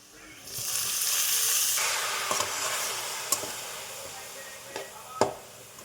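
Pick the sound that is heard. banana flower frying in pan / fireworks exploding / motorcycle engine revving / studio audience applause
banana flower frying in pan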